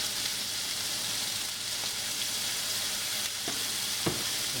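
Garlic and ginger stir-fried in a hot pan, a dense continuous sizzle with a few soft clicks of a utensil against the pan near the end, with no voices.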